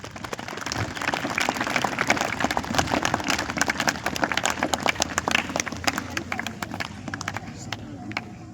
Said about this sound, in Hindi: उन सब के लिए भी आप जोरदार तालियां बजाएं